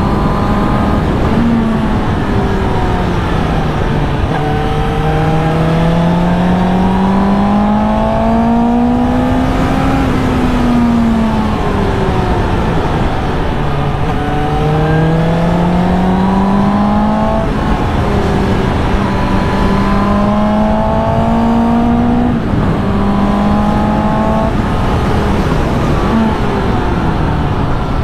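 A four-cylinder motorcycle accelerates hard through the gears, its loud, close engine note climbing in pitch again and again with quick drops at each shift, continuous wind rush underneath and no talking.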